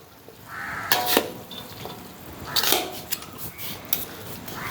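Vegetable curry noodles are stirred in a pan, with a few scraping and clattering utensil strokes against the metal over a low background hiss, close and intermittent.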